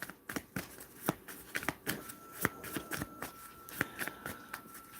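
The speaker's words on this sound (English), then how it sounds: "All right, Tammy, let me find out what the cards say for you" Tarot cards being shuffled by hand during a live reading, a rapid, crisp run of papery riffles and flicks, close and steady with no talk over it.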